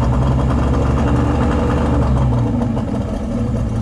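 A 25 hp outboard motor runs loud and close throughout, its steady engine drone easing slightly in the last second, with no one speaking.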